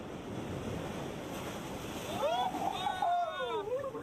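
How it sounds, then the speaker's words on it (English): Ocean waves wash steadily onto a beach, with a rising surge partway through, while a whistling bird-like call sweeps over the surf. "spending the night on the beach to the sound of the waves"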